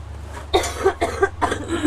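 A series of three or four harsh coughs in close succession, loud and near, over a low background hum.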